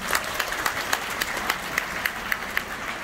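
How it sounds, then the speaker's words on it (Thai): A theatre crowd at a live Thai cultural stage show in Bangkok claps in unison, with evenly spaced, moderately quiet beats about four per second over a soft murmur of hall noise. "ขอเสียงปรบมือหนึ่งครั้ง"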